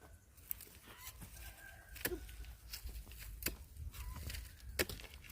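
Chickens cluck intermittently at a moderate distance over a busy outdoor background, with a few sharp scratchy noises scattered through.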